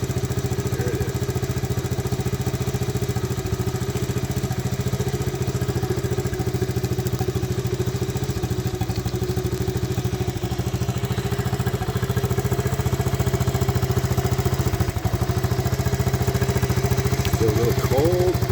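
A restored Honda ATC70 three-wheeler runs at a steady idle just after starting with choke, still cold, giving a continuous, even putter close by with a faint voice briefly over it.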